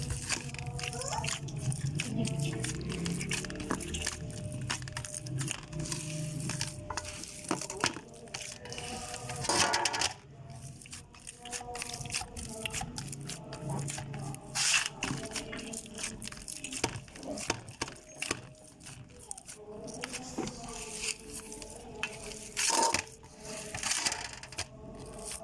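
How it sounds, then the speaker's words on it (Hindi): Hands knead and punch atta dough in water at home, giving close squelching, slapping and crunching sounds in irregular bursts, fairly quiet throughout. "ये देखिए, उसी पानी में आपने इसको मुक्की लगानी है, ठीक है जी। इसको गूंदना है उसी पानी में।"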